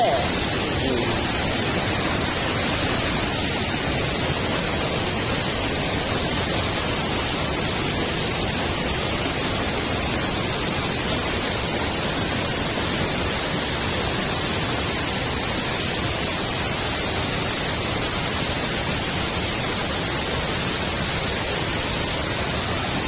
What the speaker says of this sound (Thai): น้ำตกตับแซ่ อ๋อ ตรงนี้สามารถเล่นน้ำได้นะครับตรงนี้ สวยมากครับ